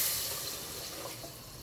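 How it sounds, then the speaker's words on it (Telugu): Water poured from a glass into Sona Masuri rice in a pot, four glasses for two of rice, a steady near splashing fill with no talk. "4 గ్లాసుల నీళ్ళు పోస్తున్నాం."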